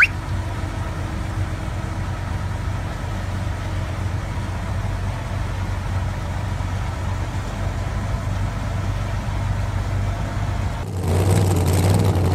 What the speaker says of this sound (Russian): А где же снегоуборочная машина?